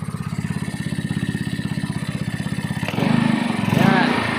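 A Yamaha Nouvo Z125 scooter, left standing nearly two weeks, has just been started. Its engine idles in a loud, rapid, even thumping, then revs up near the end, with some talk alongside.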